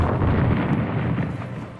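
A titanic explosion destroying a cavern entrance in a Total Annihilation: Kingdoms cinematic, a loud deep roaring blast that rumbles on and slowly fades.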